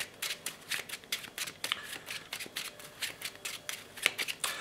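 A deck of trading cards is riffled and shuffled by hand close up, a rapid series of crisp papery bursts in an uneven rhythm, quiet and with no talking.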